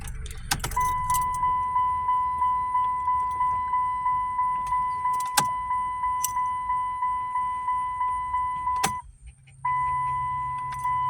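A 2007 Chrysler Sebring with a P0113 fault is switched off and back on, a steady repeating chime pulsing at close range, cutting out briefly near the end before the engine and chime resume; no speech.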